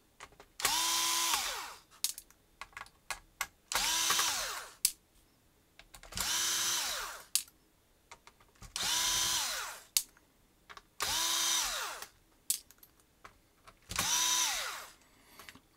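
A Hitachi drill screwdriver runs in six separate bursts, each spinning up and winding down, with scattered clicks and handling taps in the pauses between.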